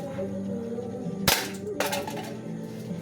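Gas-powered 1911 airsoft pistol firing, with two sharp cracks about half a second apart, the first louder and snappier, over a faint steady background hum.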